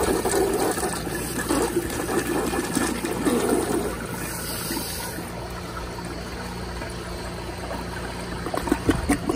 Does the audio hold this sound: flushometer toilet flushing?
yes